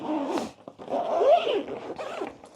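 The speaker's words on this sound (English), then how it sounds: "the rounded corners on the zipper. It moves really nicely without necessarily needing to like hold one side of it." A zipper pulled around the rounded corners of a NinetyGo hard-side carry-on suitcase, several close scratchy zips in quick bursts with short pauses between.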